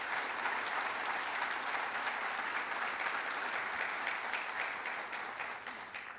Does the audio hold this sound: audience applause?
yes